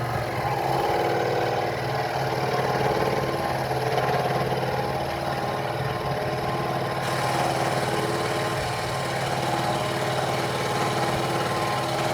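A scroll saw cutting a heart shape buzzes steadily and evenly throughout, a continuous mid-pitched motor drone with no pauses.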